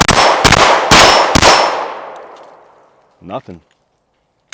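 A Ruger RXM pistol fires four quick, loud shots in a row, each a sharp crack with a ringing metallic tail that fades out slowly; a short voice follows after the echo dies.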